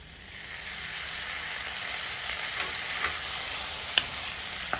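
Chopped tomatoes with spice powders fry in a pan for a Kerala-style tomato curry, giving a steady, close sizzling hiss throughout, with a couple of faint clinks of stirring.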